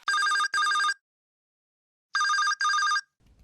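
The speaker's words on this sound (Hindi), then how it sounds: "और जैसे ही घंटी बजती है ना ये लोग घबरा जाते हैं।" A telephone rings with an electronic bell tone in two double bursts separated by a pause, loud and alone with no voices.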